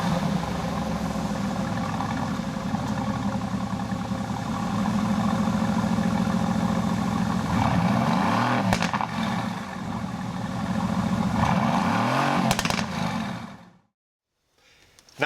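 A 2016 Mercedes-AMG GT S V8 starts and runs steadily with a deep, loud rumble, swelling in two throttle blips near the end before cutting off abruptly into silence.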